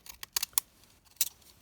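Decorative-edge craft scissors snip through paper with a postage-stamp edge, a close run of crisp irregular clicks and cuts followed by one more snip.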